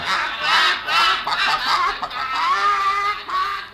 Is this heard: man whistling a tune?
no